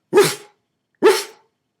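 Two sharp, loud dog barks about a second apart, close and clear, with silence around them.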